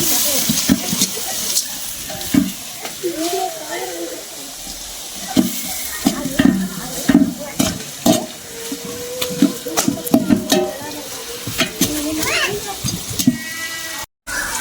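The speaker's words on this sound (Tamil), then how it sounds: "அரைச்சி வச்ச இஞ்சி பூண்டு பேஸ்ட்டு இப்போ 2 கிண்டிக்கலாம்" A ground ginger-garlic paste is stirred in a pan while cooking chicken biryani, with soft sizzling and repeated scraping strokes of a spoon, heard close under a person talking throughout.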